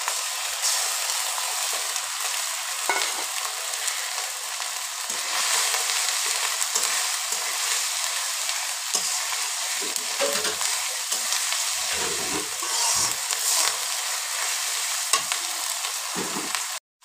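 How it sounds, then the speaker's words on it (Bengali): Mutton curry masala with onion, garlic, cumin, fennel, stone-ground spice paste, turmeric, chili and salt frying in a pan, a dense continuous sizzle with scraping stirring strokes, close and unbroken, with no voices. "মশলাগুলো ভালো করে ভেজে কষিয়ে নিলাম"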